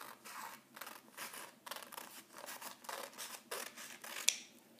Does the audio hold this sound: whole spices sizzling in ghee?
no